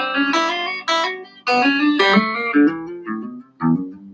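A guitar plays a triplet picking exercise with hammer-ons, moving up to the second string and back. Clear picked notes arrive in quick groups of three, close and unaccompanied, with brief gaps between phrases.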